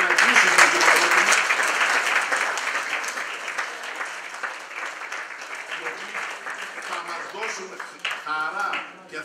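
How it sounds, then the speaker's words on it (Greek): Conference audience in a concert hall applauding the Greek police band, loud at first and gradually thinning, with voices and a short musical flourish near the end. "ένα επίσημο χειροκρότημα"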